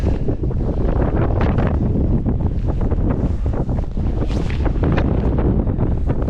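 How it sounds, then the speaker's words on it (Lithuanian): Strong wind roars across the exposed upper slopes of Snowdon near the summit, a loud, continuous buffeting that batters the microphone with gusting rumble and no voices. "Labai vėjota."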